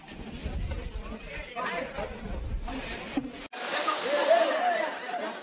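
Tada waterfall rushes in a broad, steady roar under people chatting nearby, and after a brief gap it swells louder and closer.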